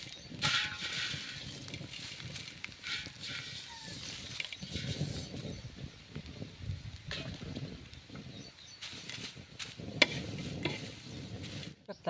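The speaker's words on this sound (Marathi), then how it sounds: "आता आपण थोडासा कांदा तळून घेऊया" Onion frying in a small amount of oil while being stirred, a soft steady sizzle with scraping and stirring noises through the pass, moderately close and fairly quiet, with brief louder clinks.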